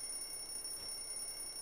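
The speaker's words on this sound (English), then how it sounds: "It's a bloody alarm clock." A ringing alarm clock in Grand Theft Auto 4, a steady high-pitched electronic tone that carries on continuously at a faint, even level with no talk over it.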